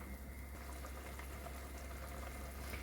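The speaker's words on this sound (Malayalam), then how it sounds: "അപ്പോൾ തേങ്ങ അരച്ചത് നന്നായിട്ട് തിളച്ചിട്ടുണ്ട്." Ground coconut masala for a Kerala-style prawn curry boiling in a pot, a steady low bubbling and simmering hiss that holds evenly throughout without any talking.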